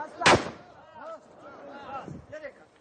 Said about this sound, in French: Une dizaine de balles sont tirées.